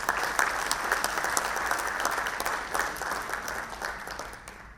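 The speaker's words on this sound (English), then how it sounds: "Let's give them a round of applause, please." Audience at an industry awards ceremony applauding the panelists, a dense, steady round of clapping from a room full of people, fading out at the end.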